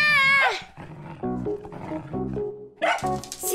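A cartoon dog from the Fixiki animated series growling in several short, loud, rough bursts separated by brief pauses.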